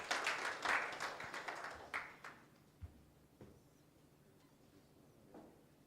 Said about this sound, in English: another round of applause for all our speakers and partners